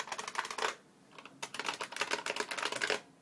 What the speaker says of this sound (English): Here I have a Model M keyboard, an IBM Model M from the 1988 one, and here's the 1992 Model M keyboard.